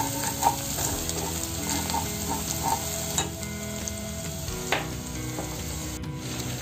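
Malvani masala sizzles and fries in a pan with chopped banana flower, a steady close crackle broken by a few sharp scrapes and clicks as it is stirred.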